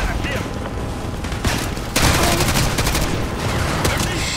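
Automatic rifle fire in Call of Duty Modern Warfare 2 Remastered comes as dense, loud bursts of rapid shots that thicken midway into a sustained volley, layered over game noise.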